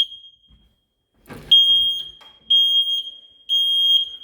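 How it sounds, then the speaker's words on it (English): An indoor smoke alarm being tested gives sharp, loud high-pitched beeps, about one per second after a short rustle of handling, each tone ringing clearly in a quiet hallway. "Smoke alarm here, which works."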